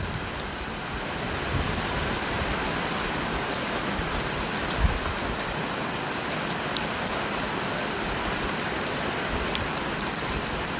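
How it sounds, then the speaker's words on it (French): Heavy rain pours down in a dense, loud, continuous hiss with scattered sharper drop impacts, steady throughout and close to the microphone, with no voices. "Il fait une grosse pluie ici et c'est difficile de diffuser aujourd'hui."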